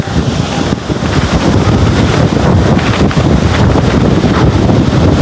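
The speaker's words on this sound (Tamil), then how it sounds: "கடல் அடியண்டா வேறு லெவல் அடியும் காற்றுமே இருக்குது" Strong storm wind roars across the microphone while sea waves crash and surge continuously at Keerimalai beach, loud and close, with no voices.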